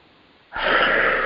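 A single deep, close breath rushes in after a brief hush, a loud, airy draw that holds steady to the end.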